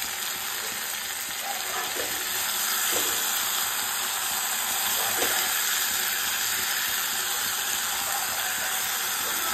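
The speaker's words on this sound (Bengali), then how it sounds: "আমার কিন্তু বেশ লাল লাল করে বেগুন ভাজা, কুমড়ো ভাজা এগুলো খেতে ভালোই লাগে" Eggplant and pumpkin slices fry in oil, a steady broadband sizzle and hiss throughout, close and even, with a few faint clicks and no talk.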